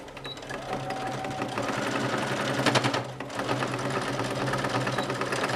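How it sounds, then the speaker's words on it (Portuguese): Sewing machine stitching fabric for a zippered box-style toiletry bag with a handle, a fast steady mechanical whir of the needle running continuously and close, speeding slightly partway through. "Vou costurar do direito."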